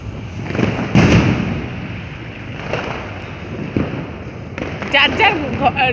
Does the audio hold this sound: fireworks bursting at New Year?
yes